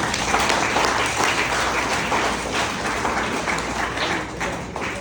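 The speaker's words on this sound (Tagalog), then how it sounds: "Ang haba ng palakpak mo sa mahal ng Panginoon." A church congregation applauds together in sustained, even clapping that fills the whole stretch at steady volume, with no voices over it.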